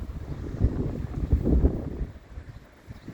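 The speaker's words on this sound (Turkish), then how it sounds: "Rüzgar çıktı çok fena." Strong gusty wind buffets the microphone outdoors at a pigeon loft, with a low, rumbling roar that swells and fades over a few seconds.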